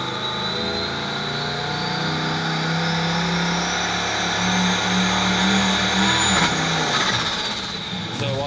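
A car engine revs hard and steadily during a dyno pull, loud and sustained, with the water pump turning too slowly and the engine starting to overheat, and the pitch rises and holds throughout.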